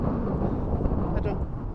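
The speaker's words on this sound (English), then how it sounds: "The wind is swirling." Wind swirls across an exposed mountain campsite, a steady loud roar buffeting the microphone with no pauses and no talk over it.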